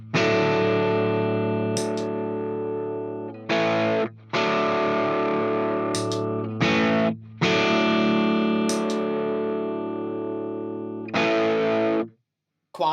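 Electric guitar chords through a budget NUX distortion pedal with the gain turned off, giving a lightly driven, subtly coloured tone, sustained strums with short breaks between them and no voices.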